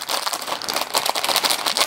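Plastic bag of BlueBrixx building bricks crinkling and rustling close up in a quick, irregular crackle for about two seconds.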